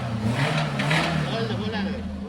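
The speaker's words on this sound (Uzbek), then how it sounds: "Motordan har xil ovozlar eshitilib ketyapti." A car engine in a repair shop revs and idles roughly with a knocking note, steady and close, while people talk nearby.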